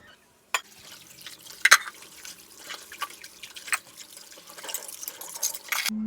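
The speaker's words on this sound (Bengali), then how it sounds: "এখন হচ্ছে যে ভালো করে মেজে এগুলো ধুয়ে রাখবো" Dishes are washed in a sink under running water, with scattered drips, splashes and light clinks of plates and utensils up close, quiet and irregular throughout.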